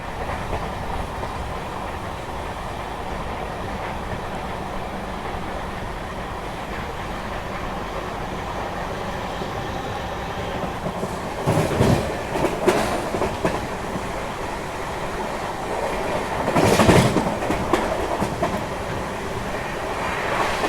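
The Malwa Express pulls slowly out of Dewas station, wheels clattering in a steady rhythm under a constant rumble, with two louder clanking bursts as the cars roll over track joints.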